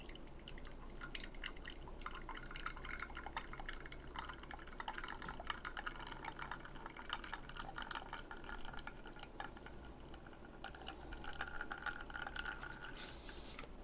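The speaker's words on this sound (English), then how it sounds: "Nice even pour." Steady espresso dripping and trickling from a machine, a continuous soft stream with a faint low hum underneath, close by.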